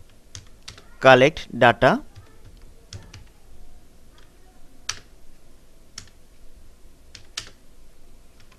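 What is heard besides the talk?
typing on a computer keyboard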